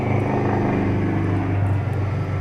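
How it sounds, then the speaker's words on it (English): An aeroplane flying overhead makes a loud, continuous low rumbling drone that holds steady through the short stretch, with no talking. "That was an aeroplane."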